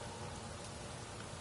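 Rain falling steadily in a stage of the video game Nioh 2, a soft, even hiss of drops with faint low rumble underneath, brief and quiet with no voices.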